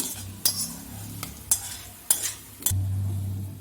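Chopped coconut roasting in ghee in a pan for appam, with a utensil scraping and stirring in several sharp clinks over a low sizzle that grows louder at the end, close by and without talk.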